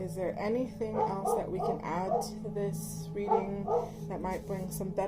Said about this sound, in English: So sorry about my dog.